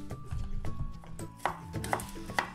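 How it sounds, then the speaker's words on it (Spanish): Knife chopping two peeled garlic cloves finely on a board, three sharp distinct taps standing out over a low kitchen background hum. "Lo picamos bien pequeño"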